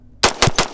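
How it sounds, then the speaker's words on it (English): A Foxtrot Mike FM-15 Gen 2 side-charging AR rifle fed from steel magazines, firing rapidly: three sharp, loud reports in quick succession after a brief moment of quiet. "So we're gonna do 10 rounds from each, just real fast."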